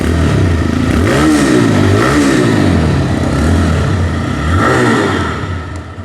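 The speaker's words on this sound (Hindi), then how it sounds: "इसकी जो एग्जॉस्ट साउंड है, देखिए गाड़ी को ऑन होने देते हैं।" A 125cc motorcycle engine starts and settles into a loud, close exhaust burble, with a few rising-and-falling revs over a steady low idle.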